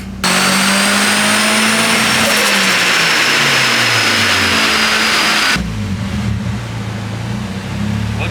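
A turbocharged SR20DE engine strapped to a dyno screams loudly through a sustained pull, its pitch climbing steadily, then abruptly backs off to a lower, rumbling idle-down.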